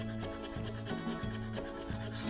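Long sanding strokes along the grain of wood turning on a lathe, a close scratchy rasp repeating about every third of a second over a low steady hum, with no voices.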